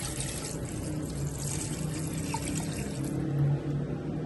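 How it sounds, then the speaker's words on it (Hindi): Steady running water, about two glasses, pours into a pressure cooker for beef yakhni pulao, a continuous close splashing stream that stays fairly even throughout. "अब 2 ग्लास जितना इसमें हम पानी शामिल कर देंगे।"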